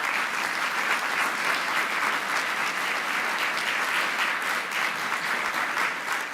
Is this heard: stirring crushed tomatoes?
no